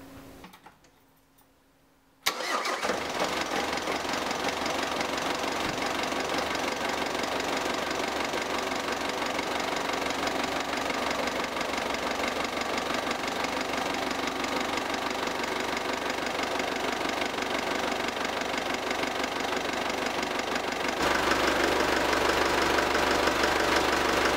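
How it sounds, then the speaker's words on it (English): A Mk5 Ford Transit van's 2.5 DI diesel engine idles steadily with a rough, knocking clatter after a brief quiet start, continuing loud and constant throughout. "So I'll go start the engine"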